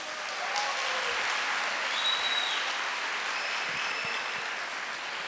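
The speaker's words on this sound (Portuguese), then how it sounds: "A salva de palmas" A crowd at a youth church gathering gives a round of applause, a continuous, evenly dense wash of clapping lasting about five seconds.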